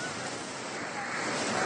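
Rushing floodwater after heavy rain on a hillside road, a continuous dense roar of surging water, loud and steady with no voices.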